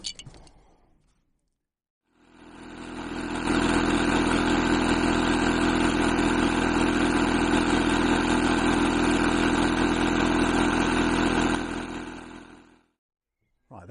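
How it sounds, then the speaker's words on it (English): Electric pump inflating the air chambers of a Eurohike Air 400 inflatable tent, a steady loud motor drone that starts abruptly, holds for about ten seconds and cuts off, with no talking. "this is my electric pump"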